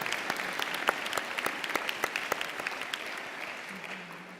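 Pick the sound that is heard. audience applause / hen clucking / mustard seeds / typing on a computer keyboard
audience applause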